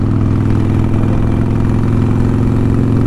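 A motorcycle engine runs steadily close by, a loud, continuous low throb at idle with a faint rise in revs, in cold 45-degree weather.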